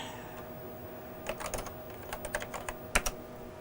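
Keys clatter on a Tandy computer keyboard in a quiet room, with scattered bursts of quick keystrokes and short pauses between them, close and fairly soft against a low steady hum.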